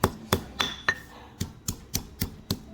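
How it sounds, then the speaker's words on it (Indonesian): A pestle pounds spices in a very small stone mortar, giving about ten sharp, dry knocks at an uneven but steady pace, close and fairly loud, with no voices. "kita tumbuk seperti ini dulu biar mudah ngehaluskannya"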